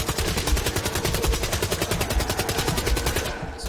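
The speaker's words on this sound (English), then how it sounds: "I am just gunning down everything that moves and hoping that it works for me." Gunfire in the Black Ops 3 Dead Ops Arcade video game, a continuous rapid stream of evenly spaced automatic shots, loud and close with no pauses.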